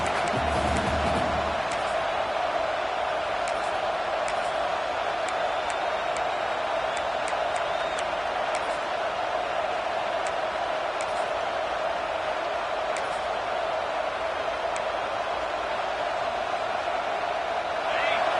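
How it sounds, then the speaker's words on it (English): A football stadium crowd roars steadily throughout, a dense, constant wall of distant cheering and noise at an early stage of a game against Notre Dame, with a brief low rumble at the start. "Listen to the crowd energy here in the early going."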